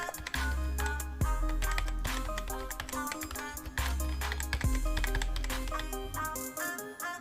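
Keys on a computer keyboard are typed in quick bursts of sharp clicks over a steady musical background, with no speech.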